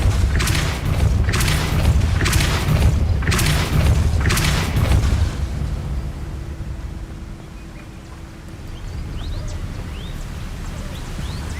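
Depulso spell cast in the Hogwarts Legacy video game, heard as a series of four loud, booming thumps in quick succession, followed by quieter ambient game sound.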